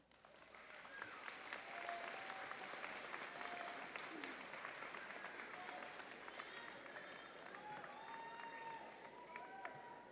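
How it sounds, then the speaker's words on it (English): A commencement crowd at a university business college ceremony applauds graduates' families with sustained clapping that rises quickly and then holds steady. Scattered voices and a few cheers mix into the applause. "give them a round of applause."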